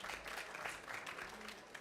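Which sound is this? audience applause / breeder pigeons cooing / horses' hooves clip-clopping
audience applause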